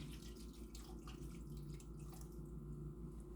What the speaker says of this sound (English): I just put enough water in there to cover my soup